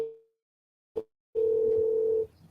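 A single telephone dial tone, steady and fairly loud, holds for about a second after a short beep, with faint room noise around it, the sound of a phone call that nobody answers.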